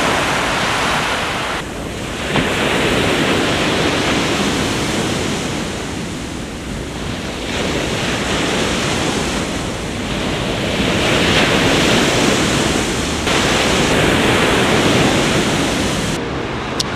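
Sea waves wash steadily onto a Mediterranean beach near La Línea de la Concepción, a loud continuous roar of surf with wind buffeting the microphone.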